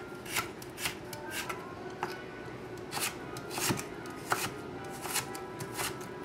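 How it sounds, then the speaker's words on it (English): A knife chopping a carrot on a board, a series of crisp close cuts in an uneven rhythm of roughly a dozen strokes over a soft background rustle, with no talking. "I have for cutting up a carrot, cut down the side like so"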